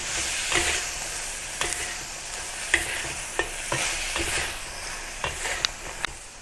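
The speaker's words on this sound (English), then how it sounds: "stir fry the green beans for about 3 to 4 minutes or until the green beans turns crisp tender" Green beans and chicken stir-fry in a hot pan with a continuous hissing sizzle, punctuated by repeated light clicks and taps of a spatula tossing the food.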